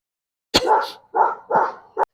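A dog in a garden barks three times in quick succession, fairly close and loud, with a short clipped yelp at the end and silence between the barks.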